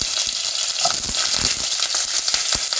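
Pork sizzling in hot oil for sinigang, a loud, close, continuous crackle and hiss with small pops throughout.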